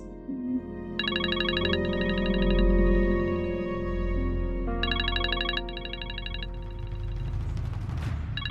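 A phone rings with a repeating electronic ringtone, two bursts of trilling tones over a low steady hum, loud and close.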